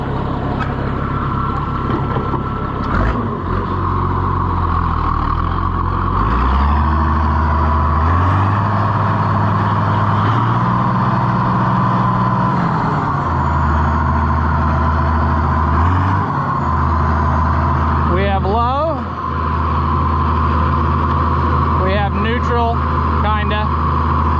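An Allis Chalmers 200 tractor drives a lap, its diesel engine a loud steady drone that shifts pitch as it revs up and settles, with people talking over it near the end.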